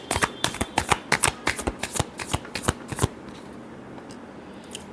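Tarot cards are shuffled by hand in quick, close, crisp riffling bursts for about three seconds, then fall quiet, with no talking over them.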